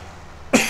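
A single short, sharp cough bursting out after choking on a Monster energy drink, close and loud after near silence.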